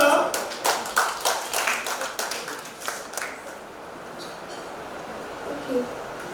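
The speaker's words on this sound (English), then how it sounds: "So first, clap for her" In a classroom, a group claps for a girl: a short burst of scattered hand claps over the first few seconds, then it fades away while voices talk quietly in the room.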